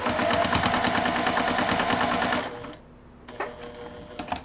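A sewing machine stitches a quilt block toward the corner, running a fast, steady rattling chatter for over two seconds, then stopping, followed by a few short clicks and taps.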